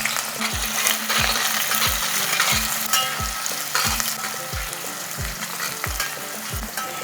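Chopped onions sizzle in hot oil with whole spices such as cloves, a steady loud frying hiss broken by a regular series of low thumps from stirring, with no talking.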